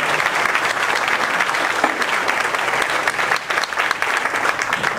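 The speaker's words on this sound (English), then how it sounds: "let's give Ed a big round of applause" A big round of applause from a seminar audience, continuous and fairly loud, with dense clapping sustained for the whole stretch.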